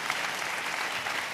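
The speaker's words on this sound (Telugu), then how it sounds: "చప్పట్లు కొడుతూ ఆ హస్తం కొరకు స్తోత్రాలు చెప్తా" A church congregation claps in praise during a Telugu sermon, giving a short burst of steady, even applause from many hands at moderate loudness.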